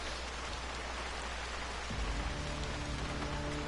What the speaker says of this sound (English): this rain sounds so real.